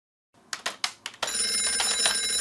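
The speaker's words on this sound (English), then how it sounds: "Yo, banana, call Max." A banana-shaped mobile phone rings, opening with a few quick, sharp clicks before a sustained, bright electronic ring that holds steady, close and clear, with no voices.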